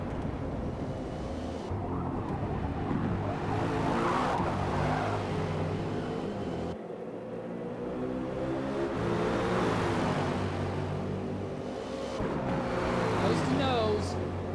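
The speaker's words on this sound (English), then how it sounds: "Kicks the car sideways over the curbs twice." GT race car at Sebring in a racing game, engine roaring and revving as it is kicked sideways over the curbs twice, loud and close with shifting pitch and brief dips between bursts.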